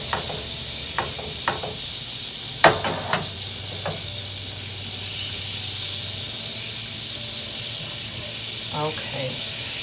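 Vegan Earth Balance butter melting in a pan, giving a soft, continuous hiss and sizzle with a few sharp utensil taps early on.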